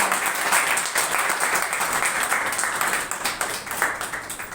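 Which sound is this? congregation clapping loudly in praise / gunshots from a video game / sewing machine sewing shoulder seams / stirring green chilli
congregation clapping loudly in praise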